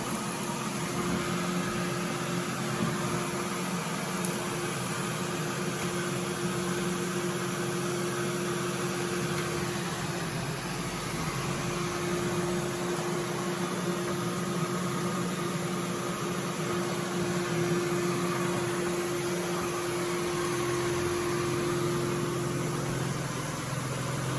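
A Samsung POWERbot Star Wars Stormtrooper robot vacuum cleaner runs with a steady, faint whirring motor hum and constant airy suction noise, unchanging for the whole stretch with no voices.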